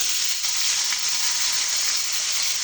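Vegetables frying together with onions, salt and turmeric in a pan, a steady close hiss and sizzle running unbroken with faint stirring, no talking.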